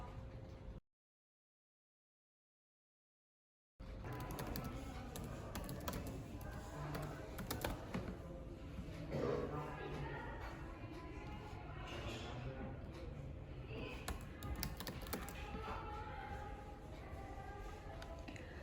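Patient data is entered on a computer keyboard in a quiet room, with soft, continuous key tapping at close range after a short gap of silence, carrying on steadily throughout.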